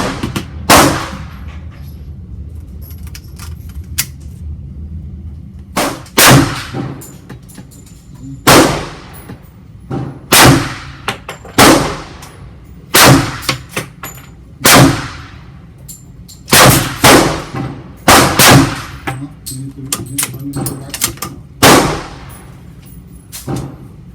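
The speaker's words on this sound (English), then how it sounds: "Now the Eley Target 22. We'll put 5 rounds through the chronograph." Eley Target .22LR rifle shots fired at an outdoor shooting range through a chronograph, about a dozen sharp, loud cracks spaced a second or two apart, each with a short ringing decay, no talking.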